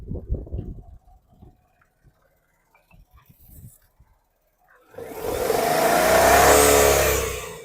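A 2016 Maruti Alto K10 VXI automatic petrol engine fires up after a mostly quiet stretch of scattered small sounds, then revs loudly and close, swelling to a sustained roar before easing slightly at the end.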